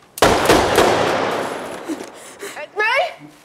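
Gunfire in a tense film scene on an empty alley at night: a sharp, loud burst of shots at the start rings out and decays, followed by a couple of fainter thuds and a brief voice near the end.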